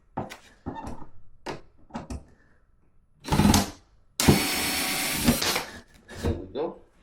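A power drill works on a cardboard shipping box for a LEO PEV Rion Apex electric scooter, sounding in short bursts, with one longer, louder run that holds steady for about a second and a half, amid close handling noises and brief talk.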